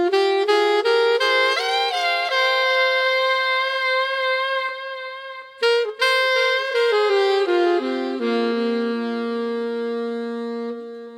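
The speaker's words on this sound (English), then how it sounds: "And then you have also this saxophone, which is another phrase that I didn't play to you before" Saxophone phrase from a beat, a sustained melodic line of held and sliding tones over a steady harmonic bed, with a brief choppy break midway before the phrase settles lower and continues alone.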